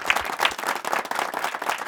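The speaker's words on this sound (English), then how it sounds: "give yourselves a big round of applause" Studio audience clapping during a televised game show, a short burst of brisk, dense applause close to the microphone.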